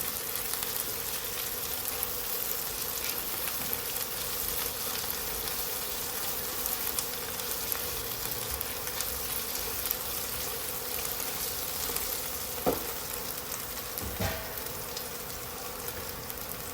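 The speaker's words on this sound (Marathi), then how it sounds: "हे बटाटे सुद्धा थोडेसे परतून घ्यायचे आहेत." Cut potatoes frying in a pan for a seaweed (sea fenugreek) vegetable dish, a steady faint sizzle with a couple of brief clinks near the end.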